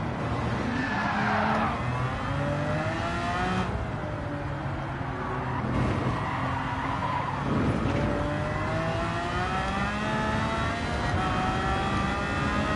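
Race car in Gran Turismo 7 driving hard through corners, the engine whining and rising in pitch through gear changes, with tires squealing and skidding, loud and continuous.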